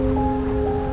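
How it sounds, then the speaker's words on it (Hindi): Heavy rain falls in the video game GTA V as a dense, steady hiss of drops pattering on surfaces with a constant low hum underneath, loud and unbroken throughout with no voices. "बारिश बहुत ज़ोर से हो रही है"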